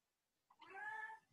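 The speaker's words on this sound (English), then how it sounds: "Oh, there's a cat." A single cat meows once, a short, clear, drawn-out cry heard alone against a quiet background.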